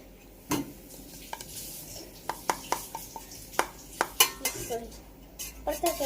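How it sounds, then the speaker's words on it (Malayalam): A spoon clinks repeatedly against a dish while stirring purple-coloured water, making sharp, close metallic taps in an uneven rhythm over a faint background hum. "ഇപ്പുറത്തെ കൈ കൊണ്ട് ഇതിങ്ങനെ ഇളക്കാം"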